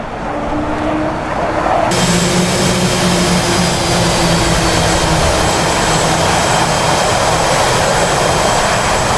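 A fighter jet engine in DCS World spools up with a loud, steady roar that thickens into a continuous broadband rush, building and then holding at full volume alone with no talk.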